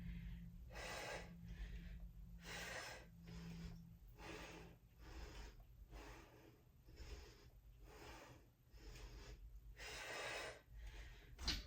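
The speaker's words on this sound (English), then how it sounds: "and breathe" Steady, rhythmic breathing during a deadlift exercise in a home gym: about a dozen sharp, close exhales and inhales evenly spaced, faint and breathy, with no talking.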